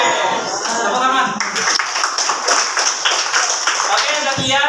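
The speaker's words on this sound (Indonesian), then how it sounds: "Oke, tepuk tangan." Classroom students clap their hands together in a dense burst of applause that holds steady for several seconds, with voices talking over it.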